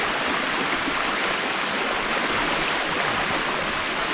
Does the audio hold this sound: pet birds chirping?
no